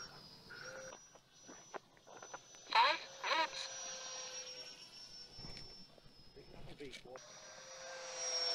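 Electric ducted fan 50mm Fan E Fantrainer model jet on its maiden flight at half throttle, a thin high whine rising and falling as it passes, with people talking intermittently nearby.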